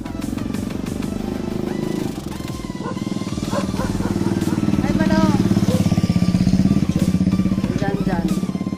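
A motorcycle engine idles and revs steadily and loudly throughout, close by, during a fiesta celebration, with people talking over it.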